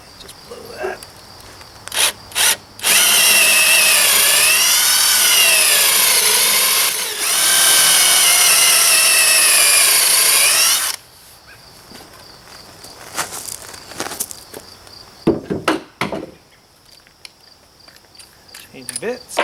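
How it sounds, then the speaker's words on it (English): Power drill boring through deck wood for leg bolts while railing posts are attached, a loud continuous whine lasting several seconds, briefly dipping, then stopping, followed by clatter and handling noises. "now I first drill with a drill which is the same size as these bolts, these leg bolts that I'm using."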